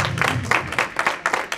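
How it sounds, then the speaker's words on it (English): A small audience applauds during a keynote speech at a health and housing summit, scattered claps in uneven bursts, fairly close and moderately loud. "Kathleen is always the first one to start applauding when I say that"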